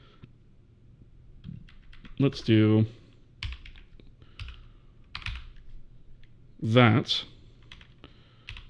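Typing on a computer keyboard while coding a C/Vulkan game engine: scattered quick key clicks and short bursts of tapping, close and clear, with someone speaking briefly in between.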